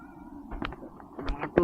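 A cat meowing up close, a short series of strained, wavering meows that rise toward the end, over a faint background hum.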